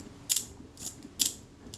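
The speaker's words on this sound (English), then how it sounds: "The cocking lever on the shutter." Shutter cocking lever on an Agfa Karat 36 camera clicks mechanically in four short, close ratcheting snaps spaced roughly half a second apart, alone with no talk.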